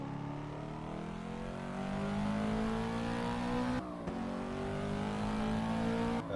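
Race car engine in the Assetto Corsa racing game at Circuit of the Americas, revving steadily upward through the gears with a sharp drop at a shift, then climbing again, loud and continuous.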